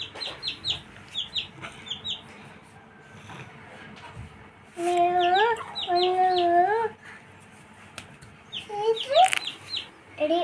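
Newborn chicks give high, thin peeps in quick bursts, with lower, louder chicken calls rising and falling in the middle and near the end.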